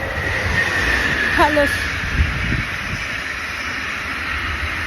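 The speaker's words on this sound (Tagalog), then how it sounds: "Kasi napakalakas po ng hangin." Strong wind gusts buffet the microphone outdoors in snowy, bitterly cold weather, a steady low roar with heavier thumps throughout, while a voice speaks briefly.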